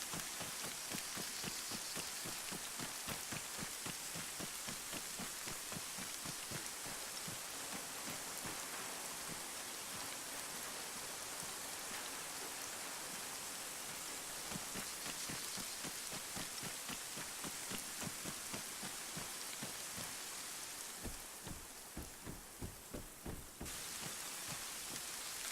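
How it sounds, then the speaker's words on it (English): Steady, dense rain falls in Arma 3, a loud continuous hiss with many close patter hits on surfaces, unbroken for the whole stretch with no voices. "At least I can get out of the fucking rain."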